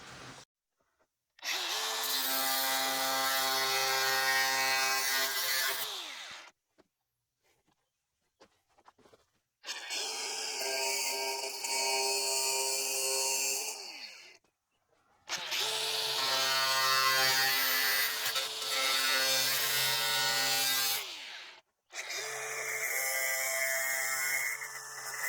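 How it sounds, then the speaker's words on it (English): An angle grinder cuts away rusty cab corner metal on a Ford Super Duty truck in four loud, whining bursts of several seconds each. Short quiet gaps separate the bursts, and the motor spins down after each cut. "I'm just gonna cut a little bit away at a time with my grinder here"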